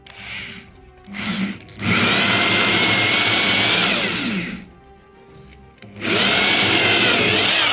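A hole saw with a pilot bit bores into wood from the opposite side, its power drill whining loudly in two long sustained runs split by a short quiet pause when the saw is pulled out.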